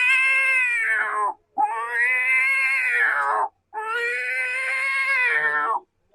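A human voice imitates two or three cats fighting, with three long, loud wailing caterwauls separated by short breaths, each rising and falling in pitch like squabbling cats.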